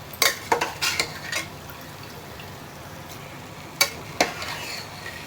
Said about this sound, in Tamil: இப்போ இந்த மசாலாவோட நம்ம வேக வச்ச கறியை சேர்த்துக்கலாம்.